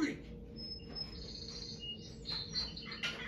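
Bird calls and high chirps in a turkey hunting video game, with faint repeated tweets over a low, steady game background hum.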